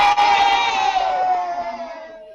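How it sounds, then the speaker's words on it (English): Children in classrooms cheer together in a loud burst of high voices and whoops that gradually fade out over a couple of seconds. "Give us a wave and a cheer in your classrooms if you did."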